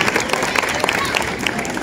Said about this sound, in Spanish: Un buen saludo y un aplauso para Elec y para Israel